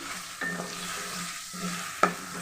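Green chillies and vegetables sauté in a pan with a continuous close sizzle, and a few utensil scrapes and taps against the pan come through, with no talking.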